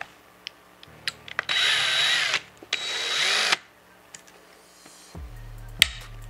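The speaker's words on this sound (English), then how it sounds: "We're gonna go ahead and pull those screws out." A power driver backs screws out of the body mounts on a Traxxas Ultimate Hauler 1:10 RC truck in two close whirring bursts, with scattered clicks and a low clunk from parts being handled.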